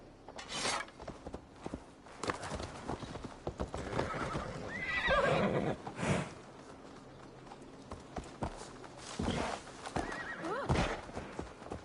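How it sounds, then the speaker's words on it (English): A horse whinnies loudly nearby among clip-clopping hooves and shuffling steps, with a second neigh following later, in the video game Assassin's Creed Valhalla. "Basim, Eivor, to horse"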